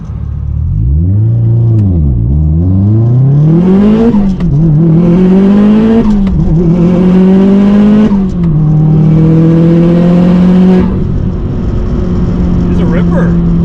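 500HP Subaru STI with a heavy twin disc clutch accelerating hard through the gears, engine pitch climbing and dropping with each shift, loud and close from inside, with turbo flutter between shifts and people talking over it.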